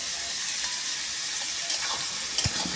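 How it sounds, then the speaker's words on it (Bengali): Chicken frying over high flame in a pan, with a continuous loud sizzle and a few faint stirring scrapes. "চিকেনটা এবারে নেড়ে নিতে হবে ভালো করে।"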